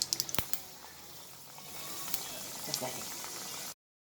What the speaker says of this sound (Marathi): आता आपण अनारशी तळून घेऊया।